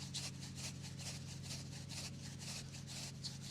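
A stiff-bristled rake dragged repeatedly across a mossy lawn, giving a steady rhythm of close, scratchy raking strokes, roughly two per second, over a constant low hum, with no talking.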